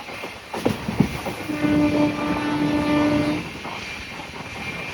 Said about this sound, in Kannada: ಹೆವಿ ಸ್ಪೀಡಲ್ಲಿ ಹೋಗ್ತಾ ಇದೆ ರೈಲ್ವೆ ಸ್ಟೇಷನ್ ಮಧ್ಯದೊಳಗಡೆ